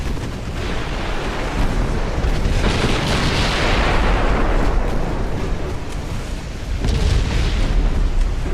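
Warship 6-inch secondary guns firing in a naval war game, a dense barrage of overlapping booms and blasts rolling continuously, loud and heavy, with a fresh surge of shots near the end.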